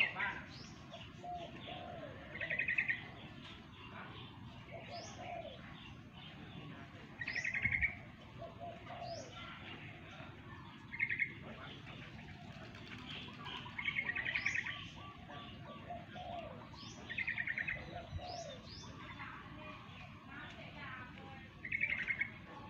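Birds call intermittently in the distance, short chirps and soft cooing repeating every few seconds over a faint, steady outdoor background.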